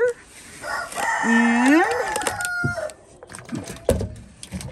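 Backyard chickens in a snowy Alaskan coop, a rooster crowing loudly and close in one long drawn-out call, followed by scattered clucks and soft squawks, with a brief spoken word.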